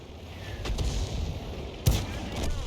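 A single sharp boom from a tank gun in the video game War Thunder, close and punchy, with quieter rumbling battle noise around it and no talk.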